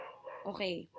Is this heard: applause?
no